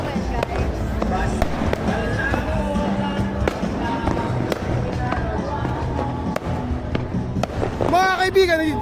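Illegal firecrackers going off on New Year's Eve in Tondo, Manila: repeated sharp cracks and pops scattered irregularly, some near and some farther off, over crowd noise and voices talking.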